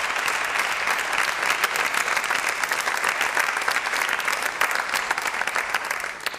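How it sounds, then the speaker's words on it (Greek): An audience claps steadily and densely for a father from Kryа Vrysi in Pella, a full, even burst of applause held throughout and tapering slightly at the end. "Χειροκρότημα για τον πατέρα"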